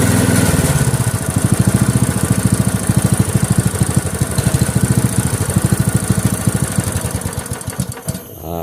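A single-cylinder hand tractor engine on a rice-field plough runs loud and close, chugging in a steady rapid rhythm and then stuttering and slowing near the end as it is cut off.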